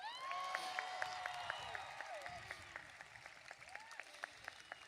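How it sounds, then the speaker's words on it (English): Applause mixed with cheers and whoops from a graduation crowd at a high school ceremony, fairly distant and easing off gradually, with scattered shouts and whistles on top. "Please give them one more round of applause."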